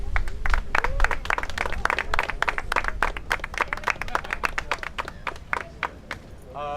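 An audience applauds at an outdoor riverwalk event in downtown Miami, a dense, steady burst of many hands clapping that lasts several seconds and then thins out toward the end.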